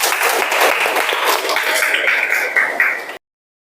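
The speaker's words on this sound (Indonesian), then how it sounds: "Kasih tepuk tangan buat Nazwa." A classroom of high school students claps for a classmate after a physics lesson exchange, a dense patter of many hands that runs steadily for about three seconds and then stops abruptly.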